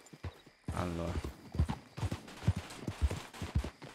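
Horse hooves in Red Dead Redemption II clop in a steady, close rhythm on the ground after a brief whinny-like snort, while someone speaks briefly at the start.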